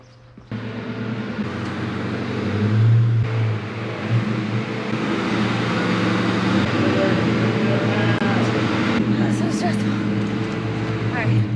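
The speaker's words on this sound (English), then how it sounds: "Let's pull my car in." A 2004 Ford Mustang GT with modifications pulls in, its engine a steady close rumble with a brief rise in revs early on, while a person talks over it.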